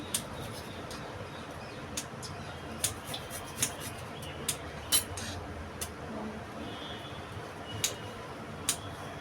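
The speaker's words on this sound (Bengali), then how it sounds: "কাজুটা একটু কুচিয়ে নিচ্ছি" Cashew nuts being chopped with a knife on a board, a series of short, fairly faint crisp taps spaced unevenly over a quiet kitchen background.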